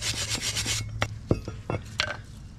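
Harsh rasping scrubs against a BMW F25 X3 front brake caliper caked with brake dust, a quick burst of rapid strokes followed by several separate scrapes, close and fairly loud with no talking.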